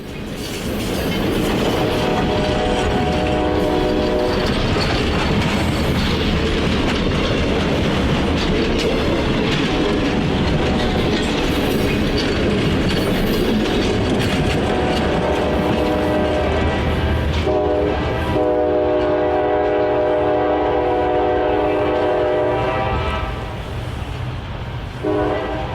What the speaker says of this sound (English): we captured the train passing Van Wert's historic courthouse